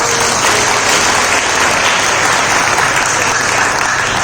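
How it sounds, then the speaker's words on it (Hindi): A large church congregation at a Pentecostal ministry service claps loudly and steadily, a dense, continuous roar of hands filling the whole stretch without pause. "एक बार जोर से ताली बजाए"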